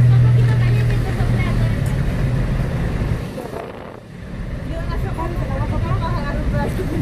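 A car engine idles steadily with a low rumble, briefly dipping midway before resuming, while women chat in Spanish over it.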